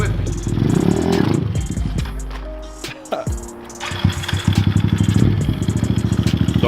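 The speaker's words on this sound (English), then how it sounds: "now show us some of the wheelies that you can do" A Kawasaki KLX110 pit bike engine revs hard during wheelie attempts, loud and close, with the pitch rising and falling, a brief drop near idle, then throttle blips again, plus some clatter.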